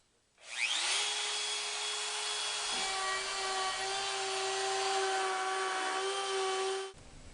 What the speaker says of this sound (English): if I put the router down on here, I can verify that that will cut exactly to the line